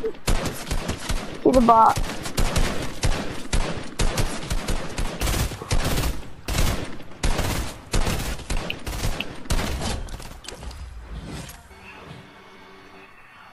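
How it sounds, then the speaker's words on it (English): Rapid bursts of video-game gunfire aimed at the player, crackling in dense repeated volleys over excited talk before fading into quieter ambience. "I'm getting shot at."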